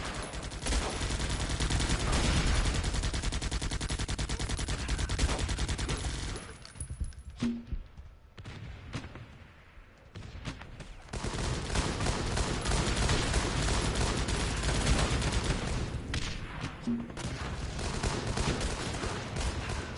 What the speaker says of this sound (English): Ooh, those machine gunners are badass